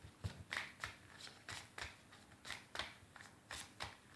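Tarot cards shuffled and handled at close range, a quick series of about a dozen crisp riffling snaps and soft slaps in an irregular rhythm, quiet and alone with no voices.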